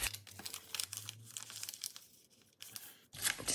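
Paper signature sheets for a junk journal being folded on a diagonal, with crisp crinkling and rustling bursts, a low hum early on, a short quiet pause and then a brighter scraping crease at the end.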